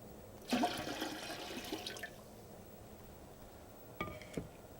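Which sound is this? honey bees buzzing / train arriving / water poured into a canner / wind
water poured into a canner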